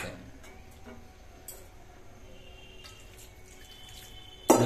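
Water poured from a tap into a pan of cauliflower and pond tilapia curry, a soft, steady trickle and splash with a louder splash near the end, no talking.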